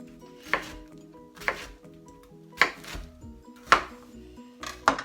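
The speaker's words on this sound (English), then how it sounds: "I'm just going to rough chop it." Pineapple being rough-chopped with a knife on a board, five sharp cuts landing roughly a second apart, each a close, crisp thud with a faint ring after it.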